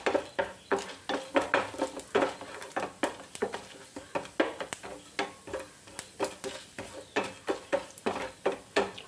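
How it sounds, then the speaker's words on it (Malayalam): A spoon stirs urad dal and mustard seeds frying in a pan, giving a rapid, busy series of close metallic scrapes and clinks with faint crackling underneath. "ഒന്ന് ഇളക്കി കൊടുക്കാം."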